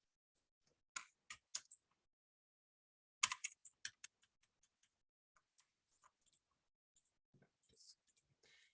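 Sparse, sharp clicks of a computer keyboard and mouse during an online science class, coming in short bursts and single taps separated by silence, close and quiet.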